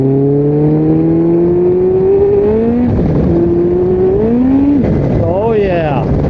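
Kawasaki Concours 14 motorcycle accelerating with a slipping clutch, engine pitch rising steadily then surging quickly between shifts, loud and close with rising harmonic whine.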